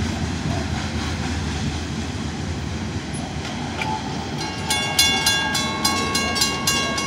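An FEC freight train rumbles past close by, a broad heavy roar joined partway through by a rhythmic clacking of wheels over rail joints.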